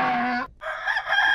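A rooster crows once, loud and close, a bright harmonic call broken by a brief gap and then carried on into a long drawn-out final note.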